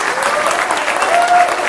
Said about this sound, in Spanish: Fuerte el aplauso para el doctor y su esposa Marta